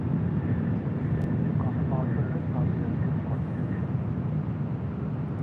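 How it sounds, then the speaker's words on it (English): American Airlines jet taxiing at LAX, a steady continuous engine roar and hum with no pauses, with a person talking faintly over it. "I'm taxiing out at American Airlines Flight 10."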